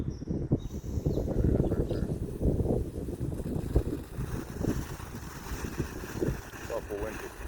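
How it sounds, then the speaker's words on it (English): Strong gusts buffet the microphone outdoors with a continuous low rumble and roar, while a person talks faintly underneath. "It's awful windy."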